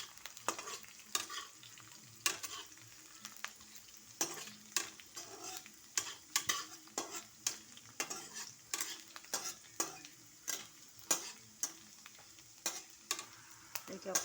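Taro pieces frying in hot oil in a pan, a steady low sizzle broken by repeated sharp scraping strokes of a spatula stirring at an uneven rhythm, close and fairly quiet, with no talking.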